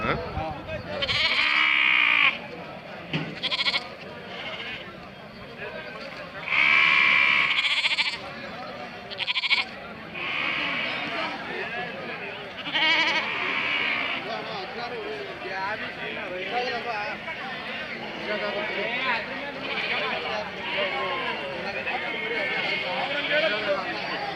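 Sheep and goats bleat repeatedly, some loud and close, at a busy weekly Tuesday livestock market in Tumakuru, under near-constant talk and crowd chatter.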